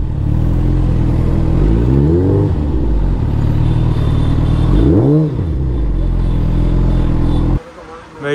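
A motorbike engine runs and revs loudly at a busy market in Gurgaon, its pitch rising and falling as the bike is pulled aside to park, and ends with a sudden drop in level.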